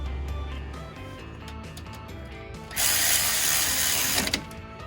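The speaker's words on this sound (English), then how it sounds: "Make sure you hold the nut on this side, tighten it up." Ratchet wrench tightening a nut on a Jeep JL rear axle during an axle shaft swap, quick clicking strokes followed by a loud rasping burst of rapid ratcheting, no talk.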